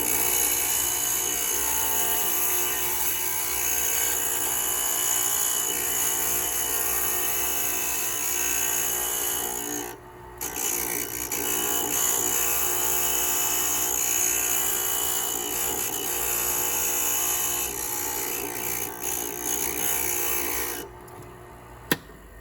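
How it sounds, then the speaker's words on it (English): A glass grinder runs steadily as a glass piece is slowly moved side to side against the bit to smooth its edges, a continuous whirring grind with a brief dip near the middle and near the end, no talking. "you're going to slowly move the piece side to side when you're grinding on the areas that need to be smooth"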